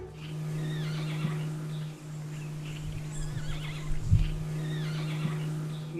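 A jay mimicking a horse's whinny, soft neigh-like calls over a steady low electrical hum, with a few faint rustles and a brief thump midway.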